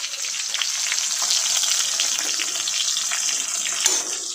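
Bhola fish frying in oil in a pan, a dense, steady close-up sizzle with crackling pops throughout and no talk.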